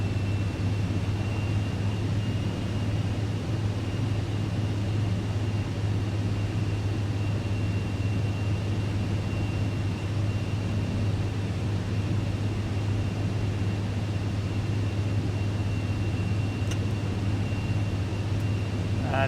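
Steady, continuous airplane engine drone in Microsoft Flight Simulator 2024, heard on ILS final approach into Newfoundland at sunset with power slightly added, a constant low hum with a faint high whine, no talk.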